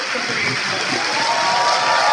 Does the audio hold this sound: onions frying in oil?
no